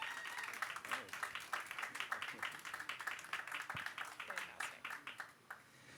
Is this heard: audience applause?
yes